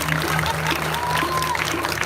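A crowd at a live Calonarang performance at Pura Dalem Padangsambian in Denpasar breaks into clapping. A steady patter of applause spreads under a sustained droning tone, with faint talk mixed in.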